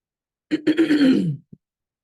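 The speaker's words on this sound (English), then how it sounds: "I've just got a little bit of a cough this morning." One rough throat clearing with a gravelly cough, close and loud, then a short grunt after a brief pause, surrounded by silence.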